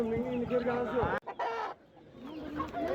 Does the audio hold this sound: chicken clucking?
yes